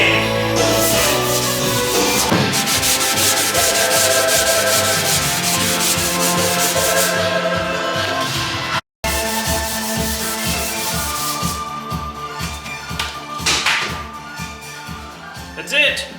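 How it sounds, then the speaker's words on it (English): Steady abrasive sanding on a 1970 Chevelle body rubs back and forth for a long stretch, loud and close, with a brief pause midway and some talk underneath. "Yeah, sanding!"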